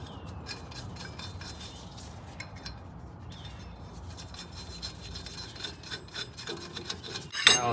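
A hub attachment is threaded and bolted onto a Nissan Titan axle, giving close, steady rasping and rubbing of metal parts turning, with a sharper clank at the end.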